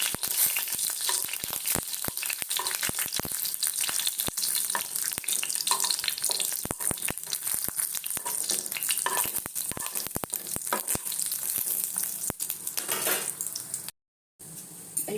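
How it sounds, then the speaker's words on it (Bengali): Bori, small sun-dried lentil dumplings, frying in a pan, with a steady loud sizzle broken by frequent sharp clicks and pops of stirring, continuous until a brief dropout near the end. "এইবারে বড়িগুলো ভেজে তুলে নিয়েছি।"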